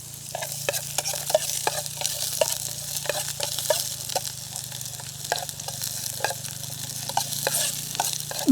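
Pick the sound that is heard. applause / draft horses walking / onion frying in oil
onion frying in oil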